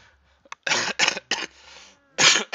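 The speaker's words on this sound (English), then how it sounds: "laughing myself into a cough" Several harsh coughs in quick bursts, close and loud, with short pauses between them and a faint breath in the gap.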